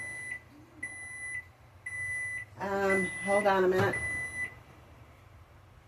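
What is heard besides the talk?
kitchen timer beeping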